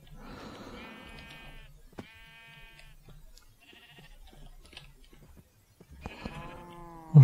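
Sheep bleating in Minecraft: several separate bleats spread across the stretch, moderately loud, with quiet game sounds between them and a sharp click at the end.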